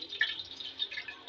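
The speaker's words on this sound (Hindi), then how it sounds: "अब इसमें डालेंगे जी ये जो है गुड़ का शीरा।" Jaggery syrup is poured into a pot of rice in a home kitchen, giving a soft, close trickle and light dripping patter that is faint and uneven for a little over a second, with no talking.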